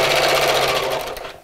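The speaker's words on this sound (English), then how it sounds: "I'm sewing quite close to the edge of that channel" A sewing machine stitches fabric for a Christmas gift sack close to the edge of a channel, a fast, loud whirring run that slows and stops near the end.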